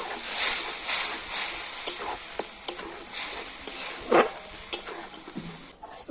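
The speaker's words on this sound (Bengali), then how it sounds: "তো এবার একটু এইভাবে নাড়াচাড়া করে নেব।" A spoon stirs chutney in a pan with soft scraping and occasional clinks against the metal over a faint steady hiss, close and fairly quiet.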